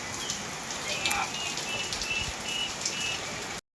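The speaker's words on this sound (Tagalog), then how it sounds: "Lakas ng ulan." Heavy rain pours steadily onto a metal roof at a house, a dense, continuous hiss with close drumming patter, faint bird calls and brief voices underneath.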